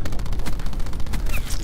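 Rapid automatic gunfire from the game Black Ops 4: a fast, steady stream of loud close shots rattling without pause for under two seconds.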